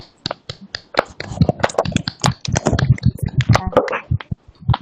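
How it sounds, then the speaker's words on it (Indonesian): A class of schoolchildren claps after finishing an evaluation, irregular sharp separate hand claps scattered across several seconds, close and uneven, with little talk. "Tepuk tangan untuk kalian yang luar biasa hari ini"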